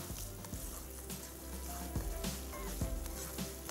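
Bottle gourd, capsicum and onion frying in a pan with mustard seeds, a soft steady sizzle with small crackles and pops, quiet and close.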